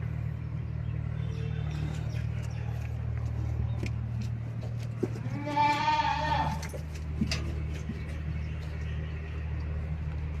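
Goats at a goat farm give a single clear bleat partway through over a steady low rumble, likely a vehicle or machinery nearby, with faint scattered clicks and no talking.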